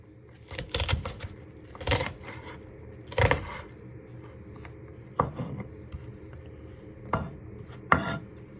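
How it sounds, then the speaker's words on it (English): Knife slicing a red onion into small pieces on a board, a series of sharp knocks and scraping cuts at irregular intervals, close and clear with quiet gaps between. "now you want to slice it into little pieces"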